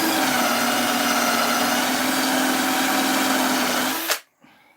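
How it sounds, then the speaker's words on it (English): A power drill countersinks a screw hole in a wooden board in a woodshed, a loud steady high whir for about four seconds that stops abruptly and leaves near silence. "I'm just countersinking the hole so that when I put the screw in"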